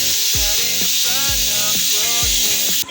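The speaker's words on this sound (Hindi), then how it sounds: "अब इसकी हवा निकाल के फिर हम प्रेशर कुकर को जो है वो ओपन करेंगे" Steam hisses loudly and continuously from a pressure cooker after cooking bhuna beef gosht, a broad rushing jet with repeated low rattling pulses from the weight, close and unbroken.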